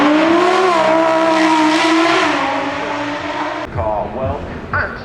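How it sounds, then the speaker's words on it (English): An electrified Lamborghini V12 hybrid supercar accelerates hard, a loud rising twelve-cylinder wail that then fades as the car moves off, leaving softer mechanical and crowd sounds. "One of the first electrified Lamborghinis with a little bit of electrical power in it,"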